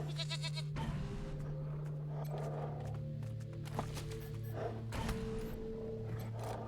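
A goat in the post-apocalyptic role-playing game Wasteland 3 gives long, wavering bleats that stretch across most of the moment. Soft clicks and thunks from the game interface are mixed in, and the whole thing stays fairly quiet.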